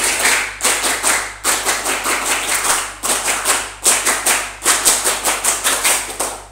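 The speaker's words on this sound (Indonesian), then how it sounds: "2 kali tepuk pramuka" At a school Scout organisation training, a group performs the Scout clap twice. Sharp, loud, rhythmic claps come in patterned bursts separated by brief pauses, with no talking.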